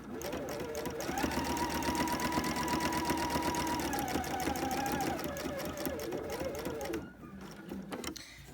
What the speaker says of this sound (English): I can start quilting until I've reached the point right here